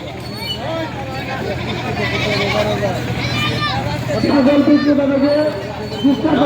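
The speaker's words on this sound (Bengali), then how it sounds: "পুরোটাই ছাগল হাটা" Goats bleating at a busy livestock market held before the sacrificial festival, several calls rising over a crowd's babble and nearby talking, with a louder bleat toward the end.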